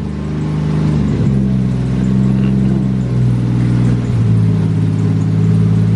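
A car with a Toyota 1JZ inline-six engine fires up by itself and settles into a steady, loud idle, with a deep, even drone and slight wavering in pitch throughout.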